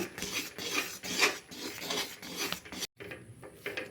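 A spoon stirs rice flour and a little wheat flour in a pan over gas heat, scraping and rasping in quick, close strokes with a brief pause near the end, and no one talks.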